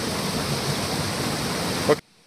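A rarely visited waterfall roars steadily and close, a dense unbroken wash of falling water that cuts off abruptly near the end, leaving near silence.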